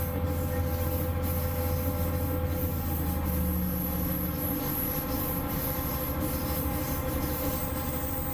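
A train travelling on the rail line from Laroquebrou to Aurillac, heard from on board as a steady, close rumble of wheels on track, with a brief squeal partway through and a faint rhythmic clatter, and nobody talking.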